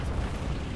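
A tank shell strikes its target in a video game with a British armed go-kart, giving one deep, loud booming impact that fills the short moment with low rumble.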